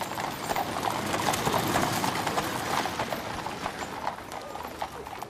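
Horses' hooves clip-clop steadily in a funeral procession, a dense, continuous patter of many hooves with faint carriage wheels, loud and close throughout, with no talking.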